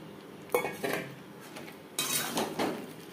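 Potatoes being stirred into fried spices in a pan for a vegetarian Bengali aloo dum, with a few distinct metal-on-metal scrapes and clinks of a spoon against the pan, close and moderately loud.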